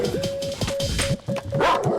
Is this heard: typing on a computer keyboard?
no